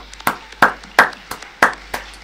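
Sparse audience clapping at the opening of the Larry Bird museum in downtown Terre Haute, a handful of distinct, fairly close hand claps in an uneven rhythm.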